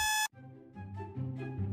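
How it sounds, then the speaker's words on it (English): An alarm clock gives one bright electronic beep, loud and close, that cuts off abruptly after a fraction of a second, followed by a lower sustained tonal sound. "making the sound of the clock's reverberating beep silent"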